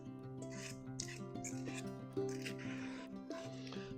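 Cupcake batter gets scraped down the sides of a mixing bowl, a soft continuous rubbing and scraping, close and quiet, with a few sharper scrapes over a steady low hum.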